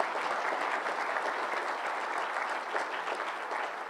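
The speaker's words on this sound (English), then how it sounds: "A big round of applause for those who have donated over the last year" A graduation ceremony audience applauds donors with dense, sustained clapping from a large crowd, steady and even throughout with no voices over it.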